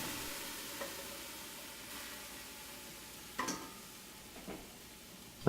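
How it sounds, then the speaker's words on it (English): Chopped strawberries cook in a pot for jam with a faint, steady low simmer, broken by a few soft stirring knocks near the end. "Cook the fruit."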